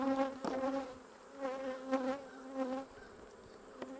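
Honey bees in a full hive box buzz steadily at close range, their drone swelling and fading in gentle waves, fairly quiet overall.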